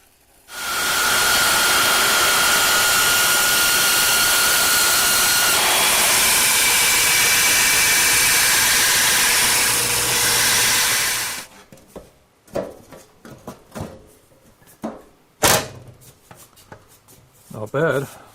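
A grinder nibbles away metal for a homemade go-kart floor with a loud, continuous whining roar up close for about ten seconds. It then stops, and someone talks amid scattered clatter and handling knocks.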